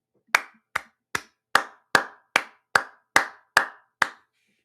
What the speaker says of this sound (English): That just deserves a round of applause.